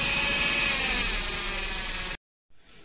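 A Daihatsu Ayla 1000cc engine with a noise fault being revved, a loud steady mechanical roar held close for about two seconds before cutting off abruptly, then a fainter running sound returning.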